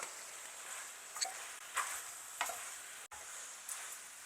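Ginger paste fries in hot oil with a soft, steady sizzle while a spoon scrapes and stirs it in a few separate strokes; the whole thing stays quiet and close.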